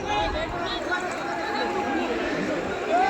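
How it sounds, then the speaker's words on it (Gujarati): A crowd shouting in an uproar at the scene of an overturned tractor in water, a dense babble of overlapping voices with no single clear speaker, steady and fairly near. "ખબર નહીં કેમ બધા બખારો કરી રહ્યા છે"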